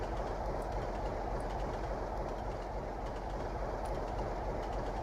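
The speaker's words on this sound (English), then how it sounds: "And because this is a freight train, we can brake harder." A Class 47 freight train runs in the Trainz railway simulator, its steady engine drone and rolling wheel noise forming a constant, even rumble with no talk and no change in intensity.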